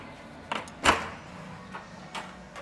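A hotel room door opens at an oceanview resort suite, with a few sharp latch clicks and a louder thump of the handle and door swinging, followed by lighter knocks and rattles.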